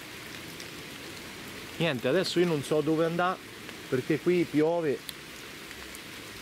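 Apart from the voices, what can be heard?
rain falling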